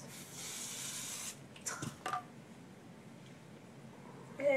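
Hairspray hisses from an aerosol can onto a braided headband hairstyle in one sustained close burst, followed by faint handling noises.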